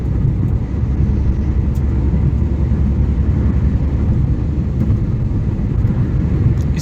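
A Tata Tiago hatchback cruising at around 100 km/h, a steady low road and engine rumble with tire and wind noise filling the cabin, constant and unbroken with no talking.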